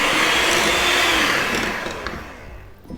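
An electric mixer whirs loudly as it creams Christmas pudding mixture with eggs added one at a time, a steady broadband drone that gradually tails off toward the end.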